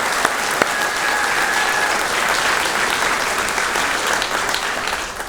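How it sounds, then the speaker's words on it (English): Audience at a 2024 high school graduation ceremony breaks into steady, full applause, a dense wash of many hands clapping that holds for several seconds with a few sharper claps up front. "Give her a round of applause."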